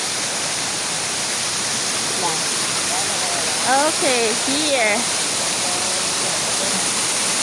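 A waterfall at a rural water source pours in a constant, loud hiss, with a few brief spoken words and a short vocal sound rising over the rushing water midway.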